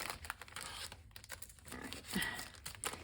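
A paper envelope slides out of a winter-themed card-making kit with soft crinkling and rustling paper sounds, faint and close, lasting a few seconds.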